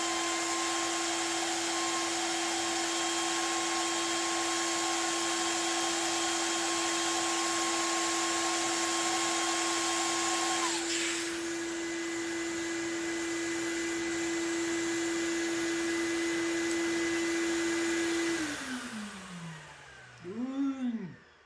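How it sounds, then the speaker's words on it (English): A shop vacuum drawing air through a dust separator and a 20-foot hose roars loud and steady with a high whine. The pitch shifts partway through, and at the end the motor is switched off and winds down. "Vacuum connected to a dust separator connected to a 20-foot hose"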